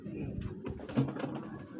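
A Giribaz racing pigeon, a male red bird of an old line, gives a brief low throaty coo close by, with soft rustling and a muffled voice in the background.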